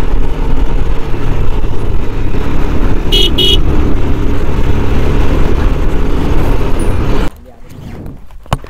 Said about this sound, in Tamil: பைக்கு இப்படி போகுது.